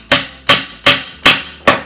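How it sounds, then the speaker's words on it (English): Five sharp, evenly spaced blows of a rubber-tipped hammer drive a tight press-fit part into a 1969 Yamaha spinet piano during restoration, each thud close and distinct. "I'm going to actually hammer that in with a rubber tipped hammer to try not to damage it"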